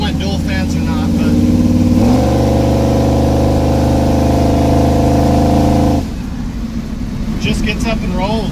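A 1971 Chevy C10 pickup engine revs loud and close while driving, a droning tone that steps up in pitch, holds steady, then drops off; someone talks briefly near the end.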